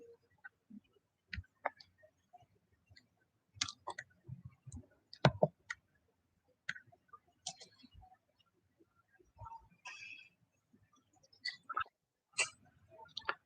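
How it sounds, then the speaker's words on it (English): A computer mouse clicks in scattered, irregular bursts, some single and some in quick doubles. The clicks are close and fairly faint against a quiet room, with no voices. "I hear somebody clicking on a computer."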